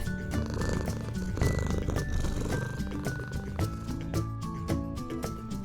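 A cat purring as a soft, continuous rumble under light background music, close and steady for several seconds.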